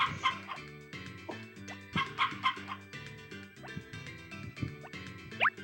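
Chickens cluck and squawk in the farming video game Harvest Moon, with short bursts of clucking over a bouncy backing tune.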